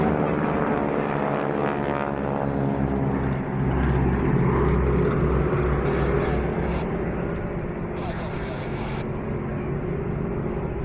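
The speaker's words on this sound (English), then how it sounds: "one biplane on the tail of another, and the lead aircraft trailing smoke" Biplanes fly in formation with wing walkers at the Sunderland Airshow 2014, the lead aircraft trailing smoke, giving a continuous droning propeller engine hum that swells and eases slightly throughout.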